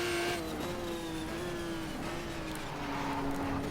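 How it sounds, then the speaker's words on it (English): Race car engine in the GTR 2 racing game, held at high revs with a steady whine that dips under braking and climbs again toward the end, loud and continuous with no voices. "Car breaking away under braking there, that was fun."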